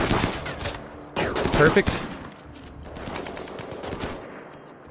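Rapid gunfire rattles during a RimWorld combat engagement, with bursts of shots and a heavy cluster of impacts, under someone speaking briefly.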